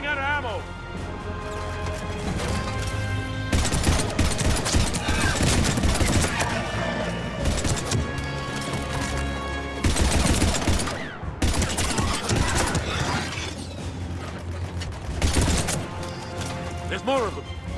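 Heavy gunfire in the video game Mass Effect 3, dense bursts and crashing impacts rolling almost continuously with brief lulls, loud and close, mixed with voices and game sound.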